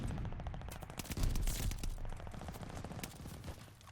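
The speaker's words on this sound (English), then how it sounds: "gunshot." Rapid automatic gunfire with sharp repeated shots in a Call of Duty: Vanguard multiplayer match, loud and close, with bursts continuing throughout and no talking.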